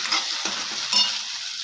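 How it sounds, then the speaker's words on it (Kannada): Turmeric powder is stirred into a potato curry in a hot pan, a steady close sizzle of frying with a few soft scraping strokes of the spoon, and no voices. "ಇವಾಗ ಅರಿಶಿನ ಪುಡಿ ಹಾಕೊಳ್ಳೋಣ. ಚೆನ್ನಾಗಿ ಮಿಕ್ಸ್ ಮಾಡ್ಕೊಳ್ಳೋಣ."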